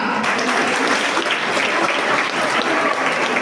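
Students burst into dense, sustained clapping that fills the space evenly from start to end, loud and close, like a hall full of applause at an awards event.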